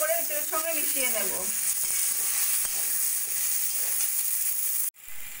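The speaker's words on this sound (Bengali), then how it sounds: "টমেটোটা ভালো করে এঁচড়ের সঙ্গে মিশিয়ে নেব।" Tomato being stirred into a jackfruit curry in a hot pan, with continuous loud sizzling and frying hiss, a brief voice at the start, and a sudden cut near the end before the sizzle resumes.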